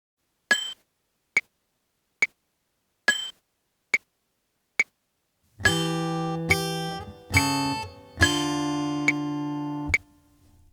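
Fingerstyle acoustic guitar phrase from Away in a Manger: six isolated plucked notes ring out at an even pace, then fuller strummed chords and sustained bass notes follow, close and clear with no talking.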